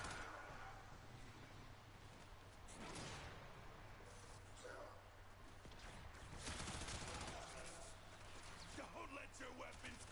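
Weapons in the shooter video game Warframe fire in rattling bursts and swooshing blasts, a dense, busy barrage running under a voice speaking throughout.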